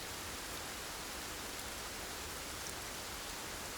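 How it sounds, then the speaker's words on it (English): Steady rain in a climbing video game hisses evenly with a soft, dense patter, quiet and continuous with no voices. "And I love this rain sound. Nothing sounds as nice as rain."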